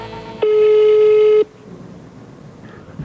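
A steady single-pitch telephone tone from a phone call on a Vietnamese game show, holding loud and unbroken for about one second before cutting off into quiet room noise.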